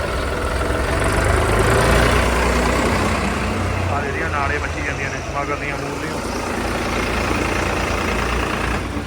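A tractor engine idles loud and close in a farm field, a constant heavy rumbling drone that holds steady throughout.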